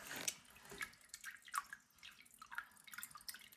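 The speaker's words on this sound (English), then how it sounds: "Look at that beautiful flow coming in" Mountain spring water flows into a storage tank with faint, quiet dripping and small splashes at irregular intervals over a low, steady background.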